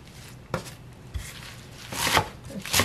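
A knife chops garlic chives on a cutting board in a handful of separate, close, crisp strikes. The quiet gaps between cuts give way to a quicker pair of chops at the end.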